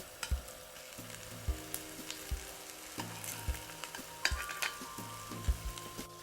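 Tempeh browning in hot oil in a pan sizzles steadily up close, with repeated soft scraping and knocking of a utensil turning the pieces at a regular rhythm.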